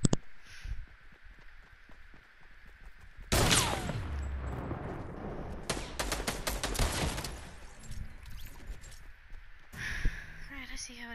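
Gunfire from the video game Fortnite: a dense burst of rapid shots erupts midway and pounds on for several seconds, then thins out, with quieter clatter and scattered game sounds on either side.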